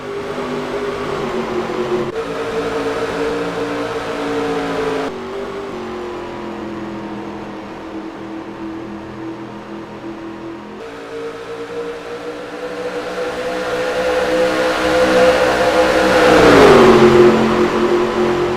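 Engines of a pack of stock cars in NASCAR Racing 2003 at Atlanta drone together as they accelerate on a green flag restart. The steady mid-pitched roar swells louder near the end as one car passes close.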